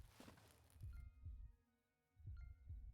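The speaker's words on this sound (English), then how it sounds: "Get a little heartbeat noise." A thumping heartbeat sound effect from the video game Hytale pulses in slow paired beats, low and throbbing, over a soft game tone.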